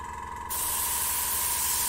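A hobby airbrush sprays paint on a waterfall diorama, a sudden hissing burst of air over a steady compressor hum, close and continuous after the start.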